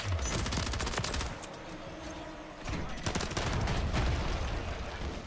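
Rapid bursts of automatic gunfire in Call of Duty Modern Warfare 3 multiplayer, dense and continuous with a short lull midway.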